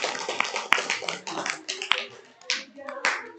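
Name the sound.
applause, clapping for Bima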